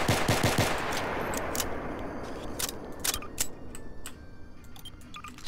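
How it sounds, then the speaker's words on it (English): A rapid burst of sharp video game gunshots from a 5.7 pistol fires close up, then scattered single shots ring out as the dense noise fades away. "This is my favorite pistol. Let's see if it has my favorite sound."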